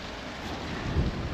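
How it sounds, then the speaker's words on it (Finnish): Cold wind blowing off the Svartisen glacier in Norway, a steady close rushing buffet against the microphone that swells slightly near the end, with no talking. "Toi tuuli tulee tuolta jäätikolta, niin se on varmaan pakkasta."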